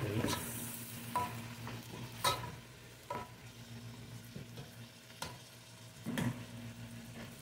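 Mojarra fish and tomatoes being stirred in a pan, gentle steady sizzling broken by several sharp spoon scrapes and clinks against the pan, close and moderately quiet, no talking.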